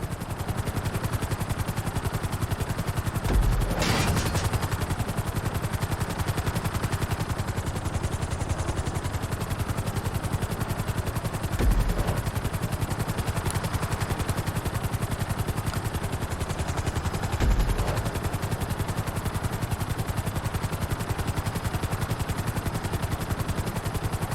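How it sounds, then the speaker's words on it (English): A helicopter flies in Grand Theft Auto V, its steady loud rotor and engine whir continuing throughout, with a few brief thuds standing out. "Bring the helicopter down gently onto the helipad."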